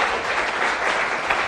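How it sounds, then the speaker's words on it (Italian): Studio audience at a televised quiz show applauds, a bright, dense wash of clapping held steady throughout, loud and close with no one speaking over it. "quindi un applauso a Carlo e Paolo che si preparano"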